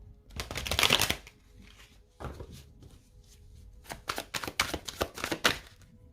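Tarot cards being shuffled in quick bursts of crisp riffling and slapping, a loud run near the start and a denser series of snaps toward the end, close and with no talk.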